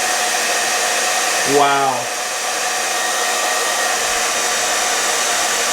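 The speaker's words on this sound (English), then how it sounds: "I'm going to turn it on heat. I'm going to go on low heat and see what happens." A portable electric heater set to low heat, powered from an Alpha ESS portable power station, gives a steady airy blowing hiss. A brief descending electronic chirp and a short spoken exclamation come near the start.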